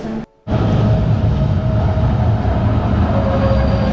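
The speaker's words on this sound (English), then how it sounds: "So this is the funicular train." After a brief silent gap, a loud, continuous rumble of a funicular train on Montserrat Mountain running close by, steady throughout with a faint mechanical whine.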